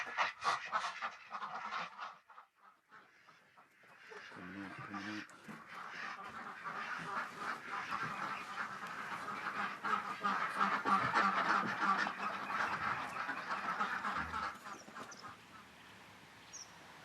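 Ducks on a farm quack and honk in a noisy, overlapping flock, loud and close, with a person talking over them partway through.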